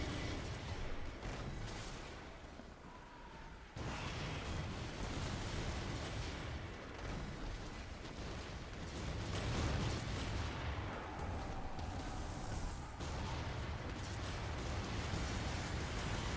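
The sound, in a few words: fire bomb explosions in the video game Skull and Bones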